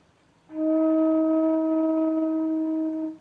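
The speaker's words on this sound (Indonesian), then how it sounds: "Suling bass. Mi." A bamboo bass flute (suling bass) sounds the note Mi as one long, steady, breathy tone held for about three seconds, clear and close, with no talking.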